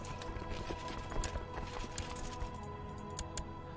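Horse hooves clip-clop in the Crusader Kings 2 video game, a quick, light patter of hoofbeats heard at a modest distance over a steady low background hum.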